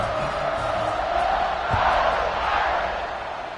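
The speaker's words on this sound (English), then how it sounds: "this crowd is feeling themselves after that last drive" Football stadium crowd roaring after a touchdown drive, a dense sustained wash of cheering and shouts at steady loudness throughout, heard from within the stands.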